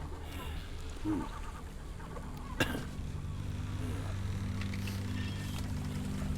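Birds cluck and honk faintly in the video game Before Your Eyes, short fowl-like calls over a steady low ambient hum, with a sharp click partway through.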